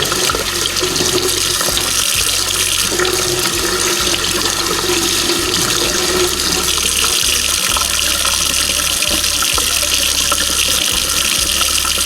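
Makeup brushes rinsed under a running tap, a steady close rush of water splashing into a sink with a few brief interruptions as bristles pass through the stream, alone without talk.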